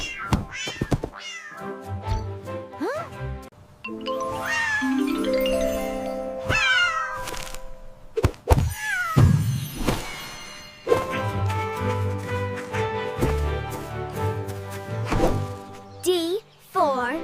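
Cartoon cat meowing in a children's alphabet song, several high, wavering meows sung over bright backing music, fairly close and clear.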